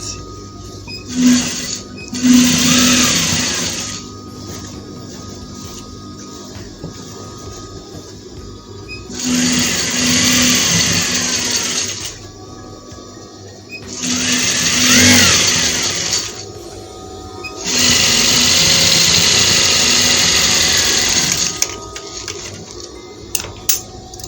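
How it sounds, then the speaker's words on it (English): A sewing machine stitching the main print fabric of a panel dress runs in four loud, steady whirring bursts separated by quieter pauses, close up, with occasional talk between runs. "I'm gonna push the lining away and stitch on the main fabric on our print."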